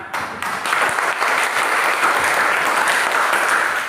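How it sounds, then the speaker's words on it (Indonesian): A classroom of junior high students at SMP Negeri 3 Kodi Balaghar applauds group 3 after their discussion in a Christian religious education lesson. The clapping is steady, dense and close, filling the room without a break. "mari kita memberikan aplaus untuk kita hasil punya diskusi"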